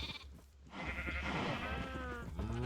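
Sheep bleating in the Minecraft video game, a short wavering blocky bleat rising after a brief pause, with another bleat following, clear and close with no talk.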